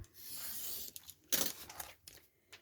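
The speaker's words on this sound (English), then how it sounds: "So I'm going to cut that bit off." Scissors snip a piece off a window envelope for a tall, skinny Christmas card craft, a short rasping cut of paper standing out near and alone amid quiet paper handling.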